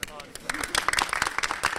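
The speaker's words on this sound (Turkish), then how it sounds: "Alkış duyabilir miyim?" Brief burst of audience clapping at a university theatre festival interview, starting after a moment of talk and building into scattered, uneven claps, fairly faint and short.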